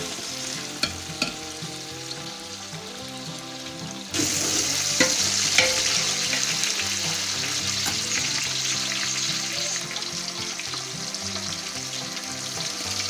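Potatoes frying in oil for vegetable biryani, a few light taps at first, then a sudden, loud, steady sizzle that continues evenly with faint stirring scrapes, close and with no voices.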